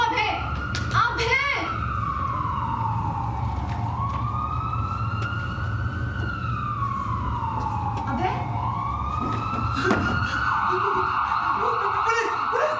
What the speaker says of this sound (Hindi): वो एम्बुलेंस वैन की आवाज थी जो यहाँ से आई